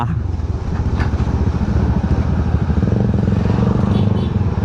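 A motorcycle engine runs steadily up close, a loud constant low rumble with a rapid pulsing throb and no clear revving or change in pace.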